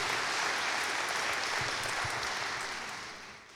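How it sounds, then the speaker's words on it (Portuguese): A church congregation at a Sunday service applauds together in a continuous, fairly distant round of clapping that fades slightly toward the end. "Um aplauso para ele."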